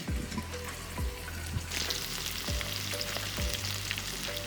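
Sausage and onions fry in a pan with a steady, close sizzle, broken by a few soft clanks and scrapes as the food is moved about.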